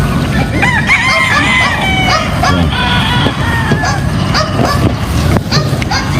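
Hens and a mother hen on a big all-weather farm in the Philippines squabble at feeding time, with loud overlapping clucks, squawks and crowing-like calls close by throughout.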